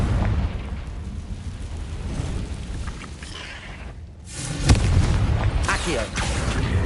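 A Confringo fire spell bursts in Hogwarts Legacy on PS5, a loud booming explosion near the middle followed by crackling blasts, with continuous game rumble and voices throughout.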